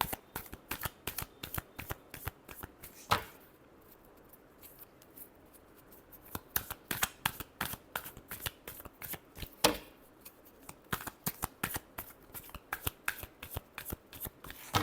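Tarot cards are shuffled up close, with repeated quick riffling bursts and sharp snaps, a short pause partway through, then more shuffling. The sound is quiet and crisp, with no one speaking.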